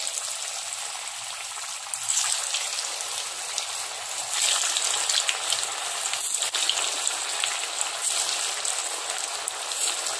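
Kofta balls deep-frying in hot oil, a steady, dense sizzle and bubbling hiss that runs unbroken throughout and is fairly loud and close.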